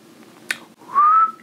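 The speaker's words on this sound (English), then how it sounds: "that was definitely a whistle" A person whistles one short, clear note that rises slightly and holds for about half a second, following a sharp snap-like click, with no talking.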